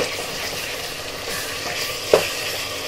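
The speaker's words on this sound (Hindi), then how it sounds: "अब अदरक लहसुन के पेस्ट को भी 1 या 2 मिनट तक तल लें ताकि इसका कच्चापन भी ख़त्म हो जाए।" Ginger garlic paste frying with meat in a hot pan makes a steady close sizzle, with a brief louder crackle near the end and no talking.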